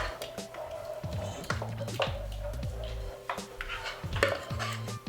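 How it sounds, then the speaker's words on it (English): Spoon or utensil stirring garlic into a sauce in a bowl, with repeated clinks and scraping taps against the dish at an irregular rhythm, fairly quiet and close. "Some extra garlic. Let's mix that together."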